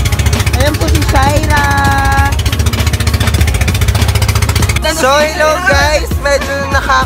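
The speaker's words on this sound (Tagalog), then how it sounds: "Medyo maingay po, pagpasensyahan nyo na meron po ditong motor ng bangka." A boat's motor runs loud and close with a fast, steady chugging pulse throughout, while people talk over it.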